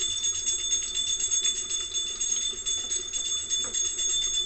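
Bells from a puja ceremony ring continuously in the background, a faint sustained metallic tone behind light kitchen clatter, with no talking.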